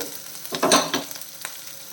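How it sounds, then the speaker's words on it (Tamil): Mustard seeds spluttering and popping in hot oil in a pan with ginger and green chilli for egg curry, a dense close sizzle with sharp irregular crackles, loud and steady. "கடுகு பொரியுது"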